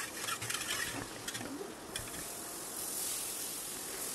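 Thick sour yogurt, 750 grams, being beaten by hand with a wooden dal whisk for lassi, a steady scraping, churning rattle against the bowl with brief sharper clacks, close and continuous, no talking.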